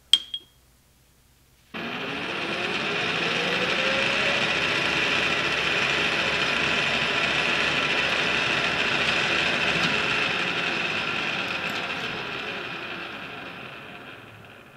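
A metal lathe turns a half-inch steel hinge pin for a greenhouse door, starting up after a brief click and holding a steady, loud mechanical whir with a high whine for over ten seconds.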